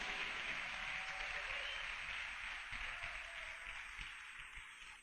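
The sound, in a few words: congregation applauding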